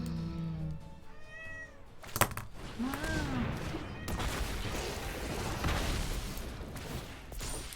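An in-game cat in MTG Arena gives a couple of short meows amid clicky game effects and soft background sounds, fairly quiet, with no talking.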